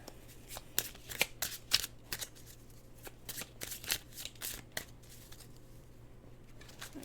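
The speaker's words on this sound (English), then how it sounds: "really shuffle these guys. They're so thin. There's so many cards in this deck." A thin deck of tarot cards being shuffled by hand, giving repeated quick riffling bursts in an irregular rhythm, close and crisp over a faint low hum, with no talk.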